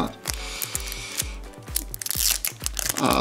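A Pokemon Mandarake mystery cube package is cut open, with close, crunchy tearing and snipping noises over a run of rhythmic low thumps, growing louder toward the end.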